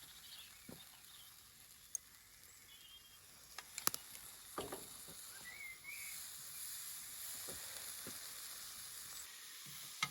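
Glazed fallow deer fillet sizzles over high heat on a grill outdoors, a faint steady hiss with scattered small pops and ticks.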